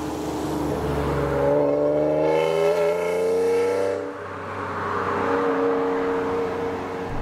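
A 1990s-era Alfa Romeo 155 V6 sounds off with a rising, revving engine note that climbs through a gear, drops briefly at a shift, then pulls again, heard close and loud.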